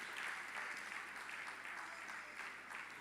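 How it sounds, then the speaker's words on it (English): Audience applause at the MUSON Festival, a steady wash of clapping from a crowd holding at an even, moderate level for the whole stretch, with no pauses. "Put your hands together for him, please"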